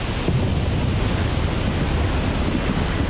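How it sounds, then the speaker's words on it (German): Waves surging in the video game Age of Water, a steady, dense wash of surf and water noise with a breezy, wind-like hiss, continuous and fairly loud for the whole stretch with no voices. "Die Wellen machen das hier echt schwierig."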